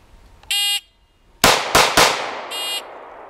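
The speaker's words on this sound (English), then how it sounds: "3 shots in 2 seconds" Three sharp gunshots crack in quick succession at a shooting range, each a loud isolated burst, bracketed by two short electronic shot-timer beeps before and after.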